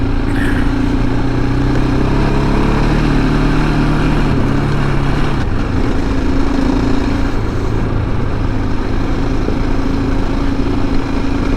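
A 2007 KTM 690SM motorcycle ridden on a road fitted with grippier light off-road tires, its engine a steady, close drone that shifts pitch a few times throughout.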